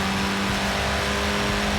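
A Mini Cooper S engine revs steadily and loudly in Forza Horizon 4, a sustained mid-pitched drone with a rough, buzzy edge and no pauses.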